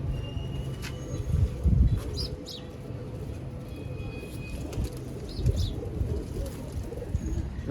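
Pigeons kept by a fancier coo in soft low bursts, fairly faint against a noisy outdoor background with occasional chirps.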